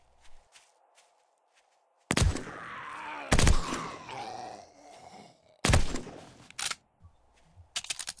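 Three sharp, loud MP5 gunshot bursts in 7 Days to Die with the Ravenhearst mod, spaced a couple of seconds apart, with low rumbling and faint background sounds between them.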